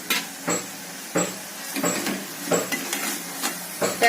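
Dried shrimp (kardi) sautéed in a pan for suki kardi bhaji, with hissing sizzle and repeated scraping stirs every half second or so, close and alone.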